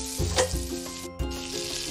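Butter melts in hot oil in a pan for butter garlic shrimp, giving a close sizzle with a brief drop midway before the frying noise returns.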